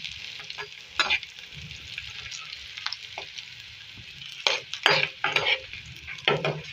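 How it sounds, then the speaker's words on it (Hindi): Onion frying in ghee for a tempering in daal gosht, a quiet steady sizzle with intermittent scraping stirs of a spoon in the pan. "इसके अंदर प्याज ऐड करेंगे, 1 दरमियाने साइज का प्याज। इसको फ्राई करेंगे, इसका कलर चेंज करेंगे"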